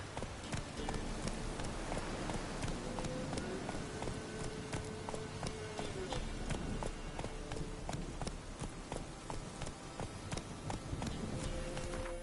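A horse gallops in The Witcher video game, its hoofbeats pounding in a steady, continuous clip-clop rhythm throughout, loud and close over a dense background.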